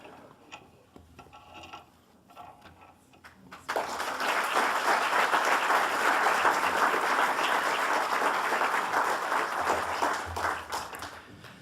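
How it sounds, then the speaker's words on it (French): Audience at a university excellence-circle induction ceremony in Québec bursts into sustained applause for new members, a dense, steady clapping of a sizable crowd after a few seconds of quieter room sound. "Je vous invite à tous les applaudir."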